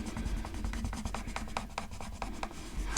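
Derwent coloured pencil pressed hard on paper: close, rapid, rhythmic scratchy strokes repeating steadily back and forth with no pauses.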